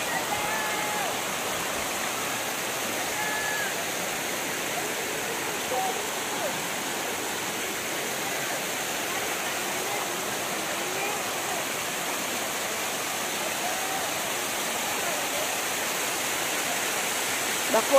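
A large waterfall at the Bilawa hot sulfuric spring in Masara, Maco, Davao de Oro, where hot water pours down. It gives a steady, close, broadband roar that continues unbroken for the whole stretch.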